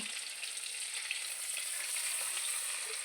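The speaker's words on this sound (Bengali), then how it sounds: "রেখে দিয়ে এবার কড়াইতে তেল দিল, দিয়ে একটু বাটার দিল" Oil and a little butter fry in a wok as the base for a white sauce for pasta, giving a steady, even sizzle with no voices.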